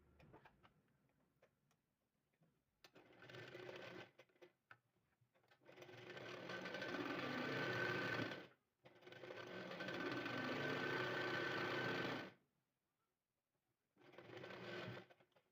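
A sewing machine stitches a folded hem along the edge of a shawl's fabric, running in three long, steady bursts with short pauses between them. The motor whirs loud and close, and nobody talks.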